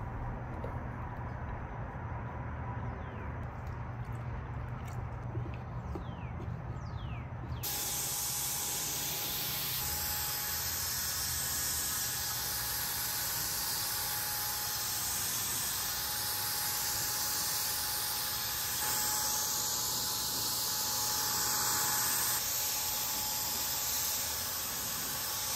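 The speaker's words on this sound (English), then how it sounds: "I sprayed the first coat and sanded with 320 grit afterwards" A paint sprayer lays a first coat on a wooden furniture piece, a steady loud hiss that kicks in sharply after a quieter stretch and then runs continuously without pause.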